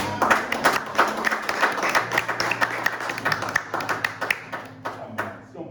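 A church congregation applauds with lively, uneven clapping from many hands that runs steadily for several seconds, with voices mixed in, then thins out at the end.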